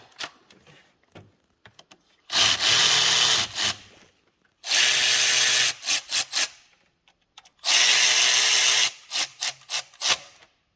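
Power tool tightening the valve cover bolts on a 2014 Jeep Cherokee 3.6L engine, three loud whirring bursts of about a second each, each followed by short clicking blips, with quiet gaps between.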